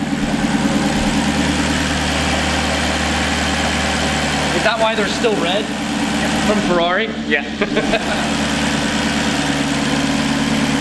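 A car fitted with the same engine as the Ferrari 430 Scuderia idles with a steady low rumble throughout, while people talk briefly over it in the middle.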